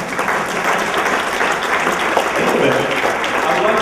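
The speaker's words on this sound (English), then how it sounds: "Let's give Dr. Roberts another round of applause." A university event audience in Pembroke gives a round of applause for a guest speaker, a dense, loud, sustained clapping that fills the room throughout.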